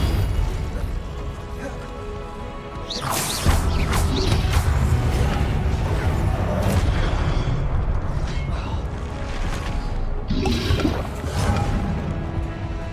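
Fiery spell blasts, Confringo and Incendio, from the video game Hogwarts Legacy: loud booming bursts and crackling impacts arrive in quick succession over a dense, rumbling combat din, with a fresh burst rising near the end.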